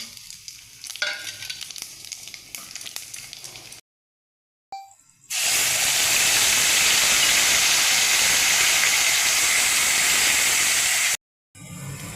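Whole spices hitting hot oil for a mutton paya soup, a loud, sustained hissing sizzle that follows brief stirring and a short silence, steady and close until it cuts off near the end.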